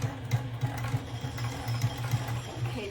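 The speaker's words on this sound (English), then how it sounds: "I'm going to continue to sew all the way straight down and removing the sewing pin" A sewing machine runs a straight seam on a fabric shoulder bag, with a steady, close, rhythmic mechanical whir and stitch pulses.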